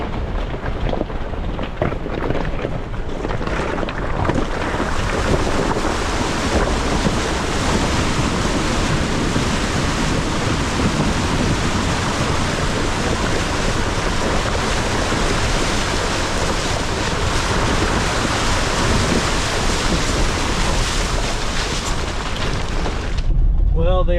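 Off-road vehicle splashing through a water crossing on a rainy day in the Ozarks, a loud, sustained roar of churning water and engine that fills the stretch before cutting off abruptly.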